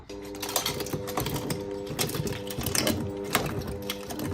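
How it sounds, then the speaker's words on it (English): A small plastic shredder chews through bottle lids cut in half, a rapid, rattling mechanical clatter with a steady motor drone and irregular crunching bursts, loud and close with no voices. "It is able to shred them when they're cut in half a lot easier."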